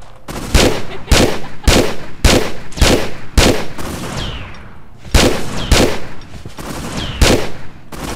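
Loud, close bursts of gunfire from Tomb Raider 3 come in repeated volleys of rapid shots with brief pauses between them, and no talk over them.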